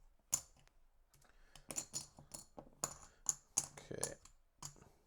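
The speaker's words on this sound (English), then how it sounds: "Let's shuffle up our swamp chips." Plastic swamp chips for the Cloudspire board game being shuffled and clattered on a tabletop, a run of sharp, close clicks and rattles in bursts across several seconds, with a voice speaking quietly underneath.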